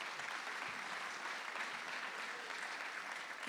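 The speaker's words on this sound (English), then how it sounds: "So another round of applause for Zach and Megan." Steady applause from a museum crowd during evening exhibition remarks at a riverfront museum, an even wash of clapping heard at a distance and fairly quiet throughout.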